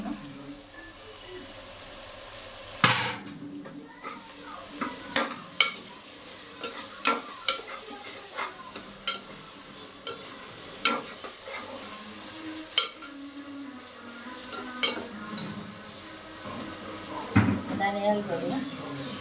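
Capsicum, ginger and garlic stir-frying in a pan for drumstick curry, with a constant sizzle and repeated scraping and knocking of a spoon against the pan, plus background music throughout.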